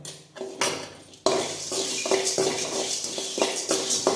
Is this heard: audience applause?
no